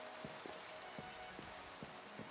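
Rain falls steadily in Minecraft, a soft constant hiss with scattered light drops pattering irregularly, faint and even throughout, with no voices.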